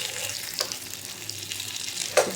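A dosa crisps in a hot pan, giving a soft, steady sizzle close by with a few small crackles and a brief louder clatter at the end, and no talking.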